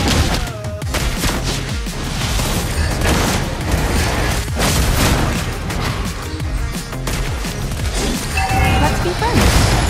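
Dense video-game battle around a turret under attack, with continuous explosions, booms and gunfire filling the whole stretch at loud, steady intensity, while game voices and effects chatter underneath.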